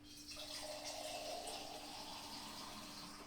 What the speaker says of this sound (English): We're just gonna simply put in roughly about a cup of water now into the pot.